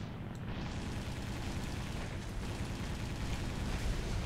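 Ground vehicle gun in War Thunder fires with a loud, continuous blasting rumble, heavy booming noise filling the whole stretch with no clear gaps between shots.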